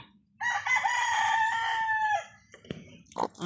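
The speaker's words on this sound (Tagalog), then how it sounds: "It's a native chicken. Ay, native hen." A native hen lets out a loud, drawn-out call close by, followed by a few short, sharp clucks, with no one talking over it.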